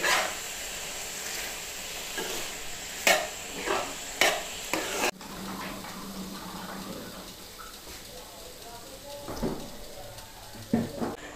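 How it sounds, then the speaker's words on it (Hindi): Tender cooked meat being stirred quickly with a spoon in a pot, sharp spoon knocks against the pot between soft sizzling and scraping, with a faint dog barking somewhere in the background. "बस इसे जल्दी जल्दी चम्मच हिला देना कि नीचे ना लगे"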